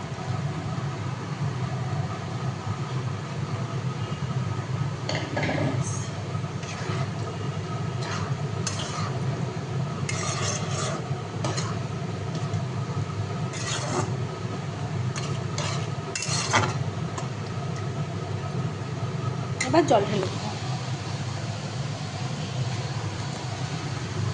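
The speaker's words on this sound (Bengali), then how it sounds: "এটাকে জাস্ট একটু নাড়াচাড়া করে যে ছোলাটা সিদ্ধ করে রেখেছি সেটাও দিয়ে দেবো" Boiled chickpeas being stirred in a hot pan for chole, a spoon scraping and clinking against the metal in irregular strokes over a steady low sizzle, close and moderately loud, with no talking.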